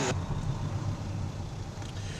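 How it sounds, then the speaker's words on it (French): A car passes on the busy road climbing the Tourmalet in the Pyrenees, a steady low engine rumble with broadband tyre noise holding at close range for a couple of seconds, no voices. "La route est quand même pas mal de circulation."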